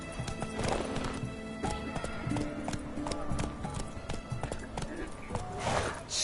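In The Witcher 3, a horse's hooves clip-clop at a quick gallop while the animal neighs, accompanied by game voices and ambient sound.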